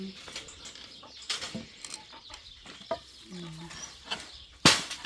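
Egg-laying hens cluck and murmur close by in short bursts inside a chicken coop, with scattered rustling and one sharp squawk near the end, while a person speaks quietly.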